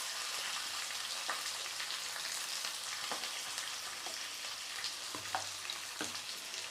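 Chopped onions and green chillies sautéing in a pan for poha upma, a soft continuous sizzle with occasional faint stirring clicks and taps, quiet and close with no voices.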